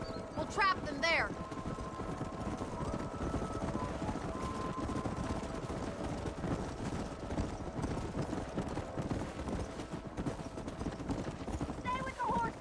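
Many hooves pound in a continuous galloping rumble as a herd of horses is driven up a canyon in Red Dead Redemption, with a horse whinnying near the start and end, while a voice speaks over the herd.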